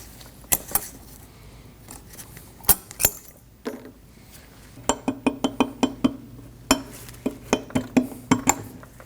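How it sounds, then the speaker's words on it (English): Brake pads and metal shims pulled from a Chevrolet Colorado rear caliper bracket on a workbench, with a series of sharp metallic clinks and taps, some spaced apart and others in quick clusters, close and moderately loud. "With the caliper bracket on a bench, I'm going to go ahead and remove the pads."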